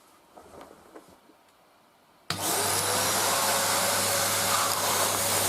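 A Numatic Basil NB200 vacuum cleaner starts up on a bedroom carpet, jumping from quiet room noise to a loud, steady whine with a low hum that holds until the end.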